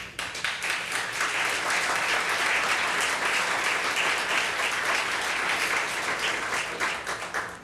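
A round of applause for the sponsors at the ZeroThreshold 2019 design competition awards event: sustained clapping from an audience, swelling quickly and holding steady before tapering at the end.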